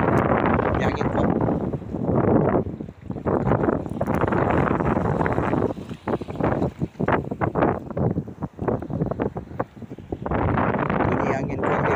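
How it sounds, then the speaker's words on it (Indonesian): Strong wind blowing at sea, loud gusty buffeting across the microphone in repeated surges, with someone speaking intermittently beneath it. "Ini angin kuat dia kat sini."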